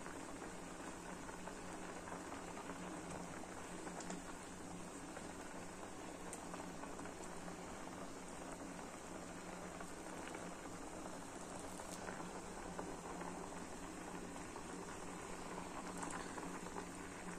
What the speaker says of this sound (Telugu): దాన్ని ఉడుకు బాగా కొడితే ఇంకా టేస్ట్ వస్తుంది అనమాట